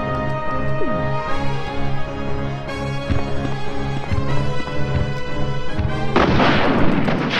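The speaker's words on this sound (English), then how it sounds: "Nice rocket to the fucking face." Heavy booming rocket launcher blasts and gunfire from the Resident Evil video game, dense and loud, with repeated impacts and a burst of noisy explosion near the end, no talk.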